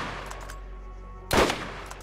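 A single loud sniper rifle shot cracks out from the video game Borderlands, sharp and close, standing alone against a low steady hum with a brief fading tail.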